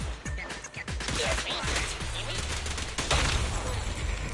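Gunfire rattles through a fight in the Zenless Zone Zero video game as a dense fusillade of quick shots and crashing impacts, loud and continuous, with a voice speaking faintly underneath.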